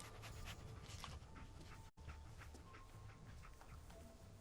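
Dog companion Dogmeat in the video game Fallout 4: quick, rhythmic panting close up, steady over game ambience, briefly cut by a short gap midway.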